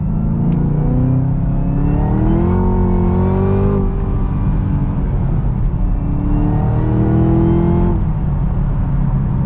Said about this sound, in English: Supercharger winding up, man. It's that cold weather, man. It's boost season, baby.